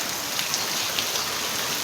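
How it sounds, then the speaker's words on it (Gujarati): Heavy monsoon downpour drenching open ground, a dense, steady roar of rain with no breaks and nothing else heard over it. "વરસાદ હારા મારો ચાલુ જ છે."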